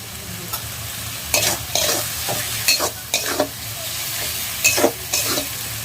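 Rajma masala frying in a pan, a continuous sizzle broken by repeated scraping stirs of a spoon against the pan, close and moderately loud without speech.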